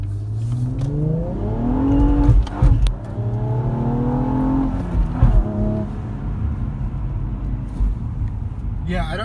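2019 Cadillac ATS-V coupe on Michelin Pilot Sport tires accelerating hard: engine revs rise through the gears with brief dips at shifts, the traction control cutting in, heard from inside the cabin as a loud, steady roar.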